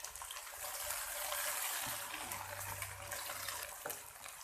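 Tomato goes into onions already frying in a pan for a potato and pea curry, and a loud, steady sizzling hiss follows, with a soft thud near the start and a low bubbling underneath.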